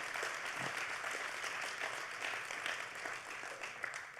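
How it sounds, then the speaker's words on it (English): An audience applauds at a business gathering: a faint, even hiss of many hands clapping, heard from some distance and holding steady throughout. "so you better clap"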